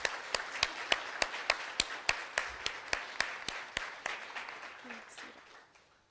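Sharp, evenly spaced claps, about three per second, gradually fading, with a murmur of voices underneath, at a Chi Sigma Iota induction ceremony.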